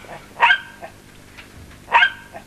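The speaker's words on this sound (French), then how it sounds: "Ce sont des chiens de chasse, donc trafic pour la chasse." Hunting dogs bark at a kennel facility, two sharp barks about a second and a half apart with a few softer yips between, fairly close and clear with no talking.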